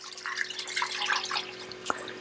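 Five cups of water poured into a vintage Tupperware container, a steady splashing trickle lasting about two seconds, close and alone with a brief drip near the end.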